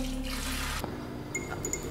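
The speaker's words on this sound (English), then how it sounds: "Oh, drain the water." Water pours and splashes as a pot of spaghetti is drained, a steady rush for most of a second that cuts off into faint drips and trickles.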